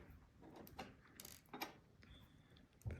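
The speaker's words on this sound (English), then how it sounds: "And now we're going to remove all the screws." Screws being removed from a MacBook Pro A1398 during keyboard replacement: close, small metallic scraping and ratcheting turns of a screwdriver, in short bursts with brief pauses.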